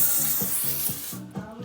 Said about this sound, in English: Spray texturizing spray backwards.